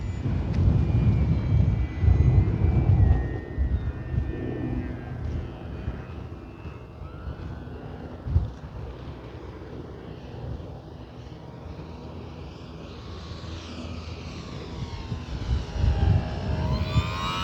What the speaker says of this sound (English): This plane does not want to come out of the sky.